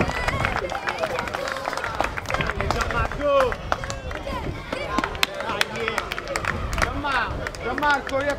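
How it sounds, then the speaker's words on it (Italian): Crowd at a boxing event claps and cheers loudly and steadily, with a babble of voices and an announcer's talk running through the applause. "facciamo un grande applauso a questi amici"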